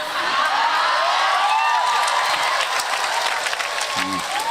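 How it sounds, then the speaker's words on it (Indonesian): Dense audience applause at a lively religious sermon gathering in Jember rolls on steadily from start to finish, with some cheering mixed in. "Iki tepuk tangan ini mesti maksudnya aku ya toh"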